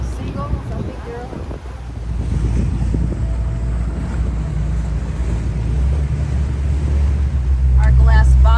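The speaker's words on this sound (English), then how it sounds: "So we are now ready for our glass bottom boat ride." A glass bottom boat ride off Cabo, with a steady low engine rumble and wash of water under heavy wind buffeting the microphone, and a few voices talking briefly near the start and end.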